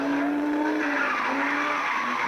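Rally car screaming past on a stage, a loud, high-revving engine whine with a tonal, slightly shifting pitch, heard close and continuous throughout.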